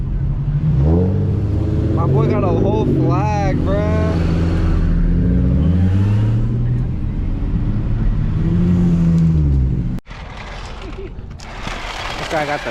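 Drift car at a beach takeover, its engine revving hard in repeated rising and falling sweeps at close range over crowd noise and voices, then cutting off abruptly before a rougher idle resumes.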